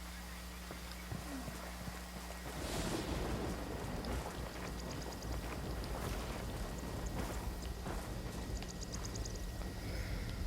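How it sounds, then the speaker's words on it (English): Steady rain falls in a tactical military video game set in Itacua, Bolivia, a soft continuous hiss that thickens after a couple of seconds, with faint thunder-like rumble and distant mechanical chirps. "Of course, it's raining."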